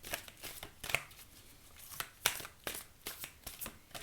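Tarot cards being shuffled in a series of crisp riffling bursts and soft slaps, close and fairly quiet, repeating irregularly over several seconds with no talking.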